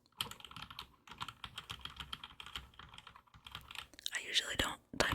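Keys clattering rapidly on a Roccat Vulcan 121 mechanical keyboard, dense close typing bursts with brief pauses, soft handling noise near the end.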